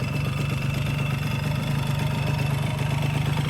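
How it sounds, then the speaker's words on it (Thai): A Yamaha Speed 120cc motorcycle, an older used bike, idles with a steady low putter and faint mechanical ticking, close by and unchanging for a few seconds. "เครื่องก็จะมีดังชุดหัวบ้างนะ ตามอายุของรถแล้วกันนะครับผม"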